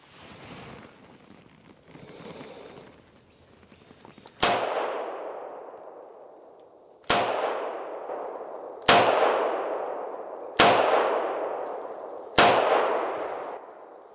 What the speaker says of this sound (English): So let's shoot this one and watch the the recoil, see how far the gun comes up on this one